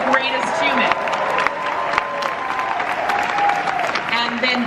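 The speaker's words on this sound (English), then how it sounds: "let's applaud him" A large crowd at a San Diego Comic-Con Marvel Studios panel applauds and cheers continuously, a loud, hall-filling roar with whoops on top and voices mixed in.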